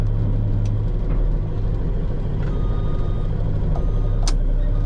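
A dump truck unloading a load of gravel idles with a deep, steady diesel rumble nearby, while a few spaced high reversing beeps ring out over it.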